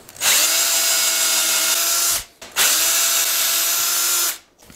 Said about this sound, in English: clamp it down, and drill our holes.